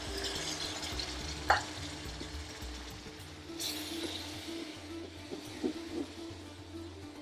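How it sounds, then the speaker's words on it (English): Curry ingredients, with a splash of base gravy, sizzle steadily in a pan on an induction cooker, with occasional brief scrapes and knocks of stirring over the continuous fry hiss. "Mix that in. Cook those out for around 20 seconds."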